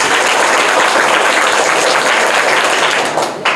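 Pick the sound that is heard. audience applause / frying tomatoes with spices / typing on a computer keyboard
audience applause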